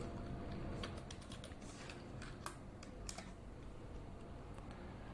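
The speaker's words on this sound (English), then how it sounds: "then I will type over here" Quiet keyboard typing in a browser sign-in, a scattered run of light clicks over steady background hiss, close but faint, with no talking.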